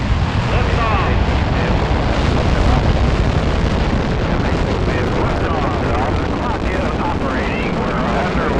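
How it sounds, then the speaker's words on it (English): Rocket engines roaring at liftoff of an astronaut's launch, a loud dense rumbling roar filling the whole stretch, heavy and continuous, with voices talking over it. "there was 1, the ignition of the burners. 0, ignition, liftoff."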